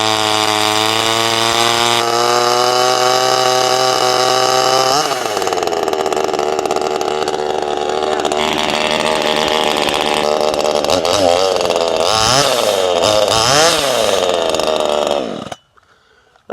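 A Zenoah clone 2500 top-handle chainsaw, started cold on the choke, runs loud and close with a steady high idle, then revs and bogs unevenly before cutting out abruptly near the end.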